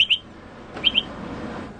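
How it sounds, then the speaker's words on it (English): Scottish bird tweets from a golf video game set on a Scottish course: two pairs of short, bright chirps, one at the start and another near the middle, over a soft ambient bed. "Right now, I've selected Scottish birds, because this is a Scottish course, and so these are some bird tweets."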